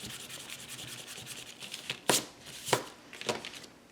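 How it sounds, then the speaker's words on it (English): An eraser rubs across the back of a sheet of paper in a craft folio project, making a soft continuous scrubbing close up, broken by a few sharper rustling strokes. "I'm going to erase the back side."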